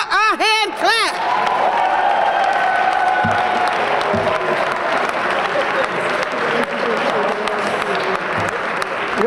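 An audience applauds at the 2019 Jersey City Women of Action awards ceremony, with loud, sustained clapping mixed with some cheering and a brief voice near the start.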